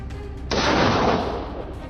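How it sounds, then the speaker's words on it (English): A burst of gunfire during a wild boar hunt in deep forest: a loud, sharp report at the start, then a sustained roaring blast that slowly fades. "Without hesitation, I pull the trigger, and the shots ring out."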